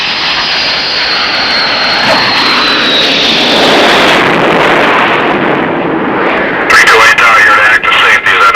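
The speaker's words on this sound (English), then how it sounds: "the first time would be a touch-and-go landing without the tail hook" Jet aircraft making a touch-and-go landing on a carrier deck without the tail hook, a loud roaring engine whine that swells and then surges with a harsh burst near the end, radio voices talking underneath.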